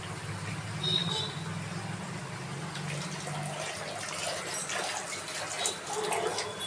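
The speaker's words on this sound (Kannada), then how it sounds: "ಯಾವ ಥರ ಬೇಕಾದರೂ ನಾವು ಹಾಕ್ಕೋಬೋದು ನೀರು" Water is poured into a Karnataka-style enna badane kai sambar as it cooks, giving a faint, steady splashing wash with a few light clinks of the pot, quiet and close throughout.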